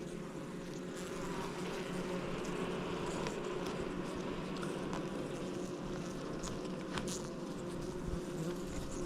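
Honey bees swarming around a hive outdoors, a dense continuous buzz of many insects close by, steady and unbroken with no voices.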